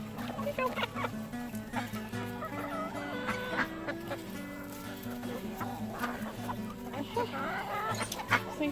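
Ducks being fed, a noisy feeding frenzy of steady quacking and clucking calls close by, with a person talking over the flock throughout.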